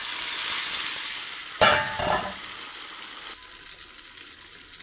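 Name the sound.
tomatoes frying in a pan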